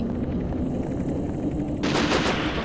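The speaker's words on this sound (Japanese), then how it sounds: "音だけだけど、撃ってきてんの？" Gunfire in a disaster-survival video game shoots at the player: a dense rattle of rapid shots over a rumbling background, growing louder and sharper with several bursts toward the end. No talk.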